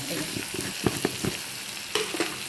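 Chammanthi ingredients sautéing in a pan with chili powder and salt, a constant close sizzle broken by several sharp scraping stir strokes, no talking.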